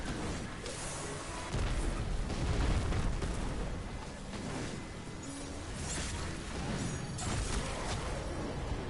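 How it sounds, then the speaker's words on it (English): Cannons firing in a video game, a sustained barrage of dull booms and rumbling blasts that blend into a dense roar for several seconds, loud and continuous, with no voices. "That's all the cannons."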